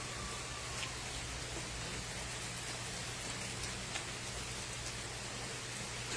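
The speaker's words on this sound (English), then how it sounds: "It's raining." A gentle summer rain shower falls steadily, a dense even hiss of drops on surfaces heard close and continuous, with a faint low hum beneath and no voices.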